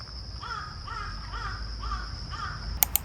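Crows cawing along a quiet forest path, a regular series of harsh calls repeated about every half second at moderate distance over a steady background hiss, with a couple of sharp clicks at the end.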